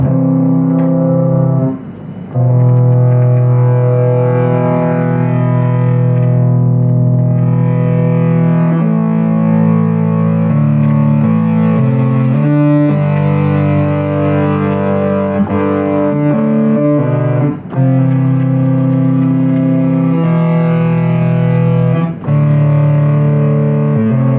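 A Behringer System 55 modular synthesizer holds a sustained two-note chord, a rich, buzzy drone that shifts in tone as it is modulated, with brief dips and clicks, loud and alone.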